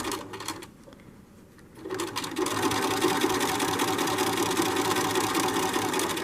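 Sewing machine stitching a decorative pillow starts after a quiet moment and then runs in a steady, fast, close hum of stitching, with no voice.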